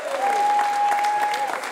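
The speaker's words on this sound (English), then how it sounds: "that's just the sound of people clapping" Crowd applauding veterans of Northeast Wisconsin on an Honor Flight trip to Washington, D.C., a dense, steady wash of clapping that carries right through, with a sustained tone and a voice or two underneath.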